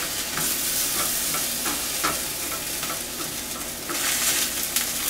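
Lamb cooks in a hot pan with a steady sizzle and frequent stirring clatters and scrapes, fairly loud and close, with no one speaking.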